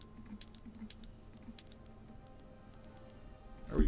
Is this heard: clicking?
yes